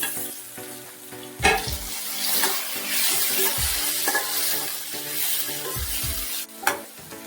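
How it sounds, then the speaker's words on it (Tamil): Onion and tomato sauté in hot oil for an eggplant curry (ennai kathirikkai kuzhambu), with a steady sizzle and stirring throughout and a few sharp scrapes of the spoon against the pan, close up and with no talking. "வெங்காயம் தக்காளி நல்லா வதங்கிடுச்சு"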